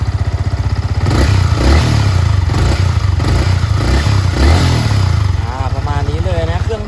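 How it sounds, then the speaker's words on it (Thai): A 2022/23 Yamaha MT-15 motorcycle with its stock exhaust idles loudly and close, a steady rapid low thrum with a few light blips of throttle, while someone talks over it. "เราฟังเสียงท่อเดิมกันหน่อย"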